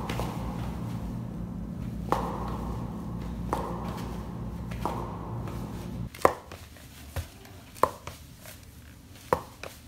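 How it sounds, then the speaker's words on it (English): Nike ZoomX Vaporfly 4% running shoes walk on a hard floor, their heels making a suction-cup sound. A low hum comes first, then distinct, fairly sharp footfall taps at irregular intervals, close and with no voices. "this crazy weird suction cup action that they have going on right here"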